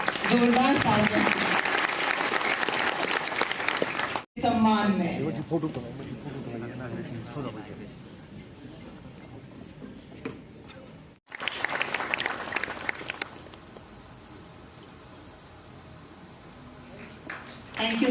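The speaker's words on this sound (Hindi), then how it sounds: "जोरदार तालियां" Loud applause from the audience at the logo, website and teaser unveiling of an inaugural event led by the Lieutenant Governor. It follows a spoken introduction, breaks off briefly, then surges again and settles under further speech.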